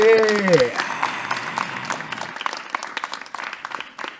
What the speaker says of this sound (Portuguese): Salva de palmas para todo mundo aqui!